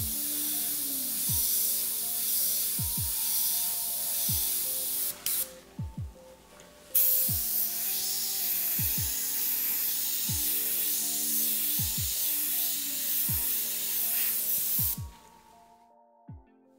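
Airbrush spraying paint while rendering dice, a thin steady hiss in repeated bursts separated by short gaps and faint clicks, close and fairly quiet.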